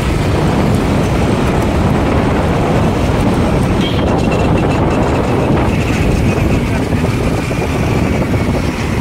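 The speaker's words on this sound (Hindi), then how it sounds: "तो दुसरी ट्रेन आली आहे, ती पनवेलची ट्रेन आहे." Panvel-bound suburban train passing near a bridge in Mumbai, a loud continuous rumble with rattling that fills the recording, heard outdoors close by.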